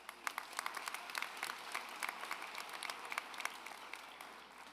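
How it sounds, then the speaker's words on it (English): A graduation audience claps for the assistant principal at the ITHS Class of 2024 ceremony: steady, fairly quiet applause from a crowd, with many overlapping hand claps and no talk over it. "I would also like to give Assistant Principal Ojeda a round of applause"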